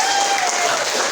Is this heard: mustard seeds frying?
no